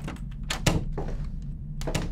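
A door opens in a video game with a quick run of close, solid thunks and a short creaking scrape, the clunks coming in a brief uneven cluster.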